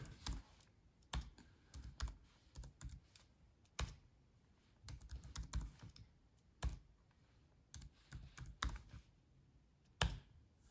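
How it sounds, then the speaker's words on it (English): Numbers being typed on a computer keyboard come as quick bursts of light plastic key clicks, separated by short pauses. The clicking is close and quiet against a faint room hiss, with no voices. "I'll just laboriously type in 1750"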